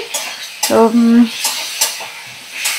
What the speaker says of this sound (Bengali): তো ভালো করে একটু ভাজা করে নেব, 2-4 মিনিট ভাজা করে